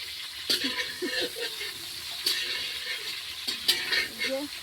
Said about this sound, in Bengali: আমাদের পিকনিকের এখন ফুলকপি ভাজা চলছে